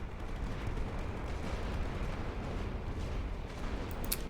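Dense, continuous rumbling of World War I artillery fire on the Western Front battlefield in The Great War: Western Front, a steady wash of distant booms and blasts without talking.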